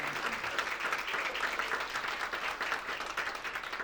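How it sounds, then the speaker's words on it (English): An audience at a legislative briefing in a state house gives a sustained round of applause, many hands clapping steadily at moderate distance with no talk over it. "let's have a great round of applause for the work that"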